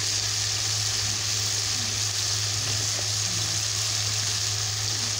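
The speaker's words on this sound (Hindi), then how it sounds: "मसाले को हम अच्छे से भून लेंगे जब तक वो तेल ना सूख जाए इसमें" Chili powder, turmeric and other spices for matar curry sizzle steadily in hot oil, a continuous even hiss with a low hum underneath and no talking.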